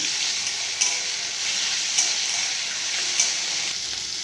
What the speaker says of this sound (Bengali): আদা রসুনের পেস্ট একটু ভালো করে আমরা ভেজে নেব